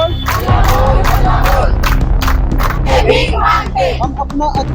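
Protesting health workers sitting outside a tehsil office shout slogans together, a loud, dense crowd of voices chanting in rhythmic bursts with clapping mixed in, continuous and close throughout.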